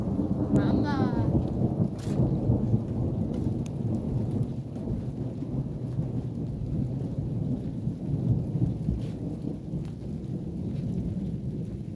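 A strong summer thunderstorm in Montady in June 2023, with steady heavy rain and a loud thunder crack early on, then continuous rolling rumble beneath the downpour.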